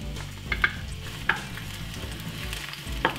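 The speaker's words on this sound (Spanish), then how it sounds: "Vamos a agregar la cebolla." Onion added to hot oil in a large pan on a stove at high heat, with a soft steady sizzle under scattered stirring clatters and a few sharp clicks of the utensil against the pan.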